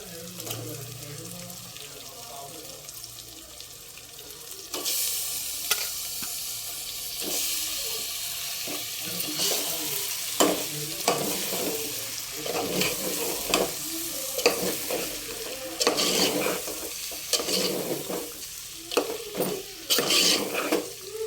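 Chicken pieces go into a hot pan of masala for chicken pulao: quieter sizzle at first, then loud frying from about five seconds on, with repeated spoon scrapes and clatter and a few faint voice sounds.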